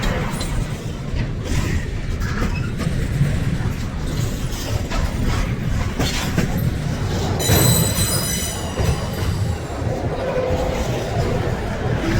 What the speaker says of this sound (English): This is definitely the highest priority train on the system.